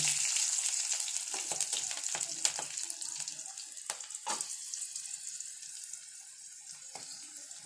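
Onions with five-spice seeds fry in hot oil, a soft, steady sizzling hiss with a few light stirring knocks, fairly faint and fading slightly toward the end.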